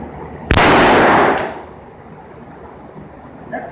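A single loud gunshot from a Mini-14 rifle fired at an ICF block outdoors, a sharp crack followed by about a second of rolling echo that fades away.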